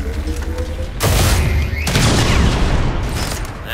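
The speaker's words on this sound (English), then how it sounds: "Firing upon him. Way better. Fire weapon." Weapon fire from the video game X-Com 2: a heavy burst of booming shots that starts abruptly after a short quiet lead-in and rolls on loud and dense, with rumbling echoes trailing toward the end.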